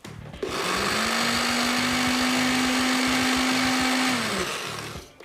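A mixer grinder blends chutney in a steady, loud motor whine that starts abruptly, holds for about four seconds and then winds down, heard up close with no talking.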